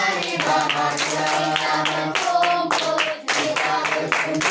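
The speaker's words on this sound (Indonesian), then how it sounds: "Bernyanyi dan sambil bertepuk tangan." Children clap their hands in a steady rhythm along with a sung Indonesian worship song, the claps sharp and close over the singing voices.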